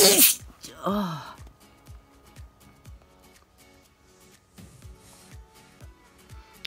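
A loud, close sneeze bursts out at the very start, followed by a second gasping, sneeze-like burst about a second later, then quieter rustling and faint background sounds.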